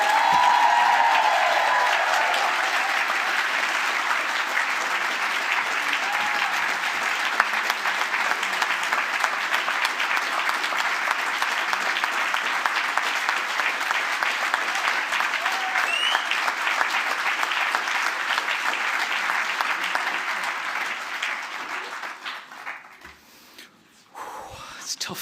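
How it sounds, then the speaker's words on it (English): A large audience at the Spirit of Manchester 2023 awards ceremony applauds to welcome a presenter, with loud, sustained clapping that fades out near the end. "Ladies and gentlemen, will you please welcome with a huge round of applause, Emmy!"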